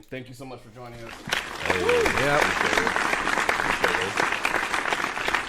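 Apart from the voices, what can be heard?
applause sound effect played on a podcast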